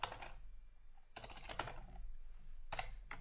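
Computer keyboard typing while XAML code is written, coming in dense bursts of rapid key clicks separated by short pauses, close and clear with no voice.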